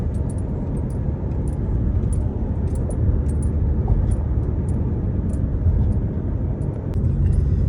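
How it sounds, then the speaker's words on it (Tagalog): Road traffic crossing the RFK Bridge flyover in New York heard from inside a moving vehicle, a loud continuous low rumble of engines and tyres with faint high ticks above, no talk. "Medyo traffic lang po ngayon, no?"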